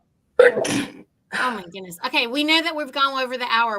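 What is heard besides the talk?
sneeze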